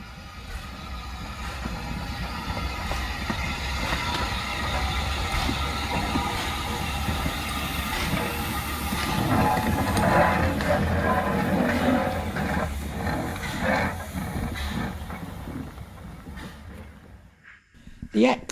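A model LSWR Adams 02 locomotive, Calbourne, rolls over curved points, giving a steady close rumble and clatter of wheels with a faint squeal; the real preserved engine's curve squeal is also heard, with talk over the running.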